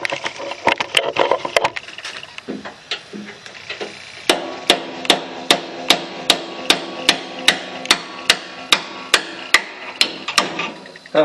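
A metal punch is hammered into the hinge of a green Craftsman mower, with irregular taps giving way to a steady series of sharp, close, ringing strikes about twice a second.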